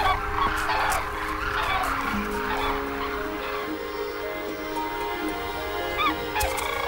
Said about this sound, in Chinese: 被梭羽鹤的喧闹声吸引，白枕鹤也来到了嘎松山下。